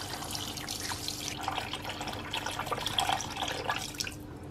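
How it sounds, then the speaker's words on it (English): Water pours into a pot over browned chicken and carrots, a steady splashing and trickling stream that runs unbroken and close for several seconds. "pour water over to cover"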